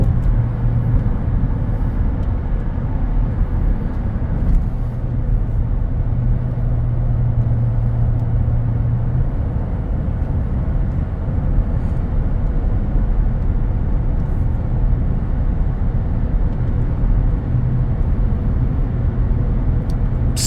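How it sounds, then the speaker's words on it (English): A GMC Sierra Elevation Z71 4x4 pickup with the 5.3 Vortec V8 drones steadily while driving, a continuous low rumble with road noise that holds level throughout, with no talk over it. "That V8 sounds so good. Sweet running motor."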